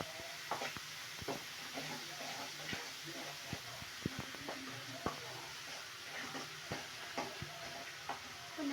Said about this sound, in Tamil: நல்லா வணக்கிக்கிறாங்க.